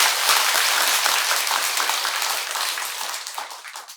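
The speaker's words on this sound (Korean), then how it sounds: "우리 모두에게 박수 한 번 더 보내라." Applause from the congregation at a Beomeosa temple dharma service, a dense, close wash of clapping that holds steady for a few seconds and gradually thins toward the end.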